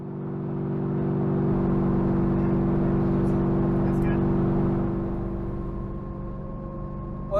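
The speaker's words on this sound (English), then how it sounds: "Now I'm out on the required oil change test drive." A 2003 Ford Mustang Cobra on a test drive after an oil change, its engine droning in a low steady cabin hum with a brief rise in pitch, loud and continuous.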